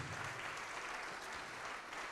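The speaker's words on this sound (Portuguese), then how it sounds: "Vamos aplaudir mais ao nome de Jesus." A church congregation applauds steadily, a dense wash of clapping hands that continues without pause from start to finish.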